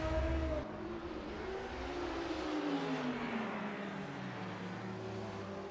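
A Porsche race car engine in a racing video game at Daytona roars steadily, its pitch sliding down and up between gears, loud and continuous.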